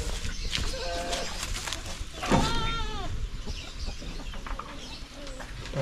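A goat being let out of its pen on a Filipino farm gives a wavering bleat mid-clip, with other livestock and birds calling around it over steady outdoor background noise.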